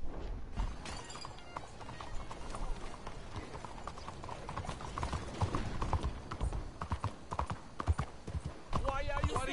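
Horse hooves clip-clop steadily in a video game in a fast, continuous rhythm, mixed with game sounds while someone talks over them.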